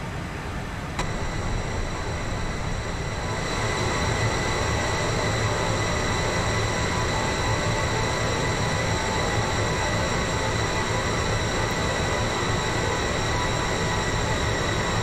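Steady, loud A320 jet engine drone in the flight simulator Aerofly FS 4, with a constant high whine layered over a broad rumble, continuous throughout without pauses or voices.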